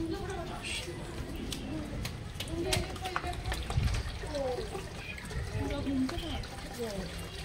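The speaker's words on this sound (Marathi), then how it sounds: "त्याचा जलाभिषेक जो होतो त्याचं पाणी इथे येतं." Abhishek water from the Shiva linga inside Kapaleshwar temple in Nashik trickles and runs out steadily, a continuous watery wash heard beneath constant talk and crowd noise.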